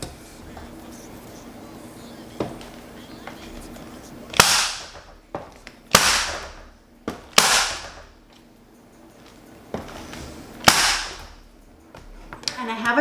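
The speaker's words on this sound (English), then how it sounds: "And now we're going to staple." Stapling a Halloween porch sign: four sharp, loud staple-gun snaps spaced a second or so apart, each with a short ringing decay, plus a few softer clicks and handling noises in between.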